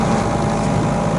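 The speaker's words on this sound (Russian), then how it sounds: "мотор идет" An outboard boat motor runs on a river, a short burst of steady droning engine hum heard close and fairly loud.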